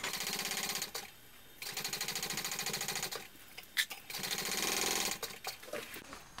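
Sewing machine stitching a narrow basting seam with a very small seam allowance on a mini backpack, running in fast bursts of rapid, even stitching separated by short pauses.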